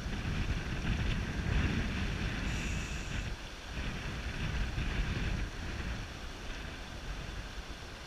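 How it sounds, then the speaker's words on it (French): Steady wind roars and buffets the microphone outdoors on the tundra in Denali, a constant broadband rush with gusts rising and easing, with no voices present. "il y a du vent aussi"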